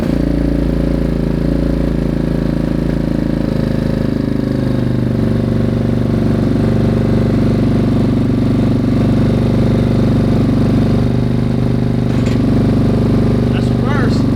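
An old abandoned Yamaha Warrior 350 ATV engine runs loudly close by, a steady mid-pitched motor drone with slight shifts in pitch while people talk over it.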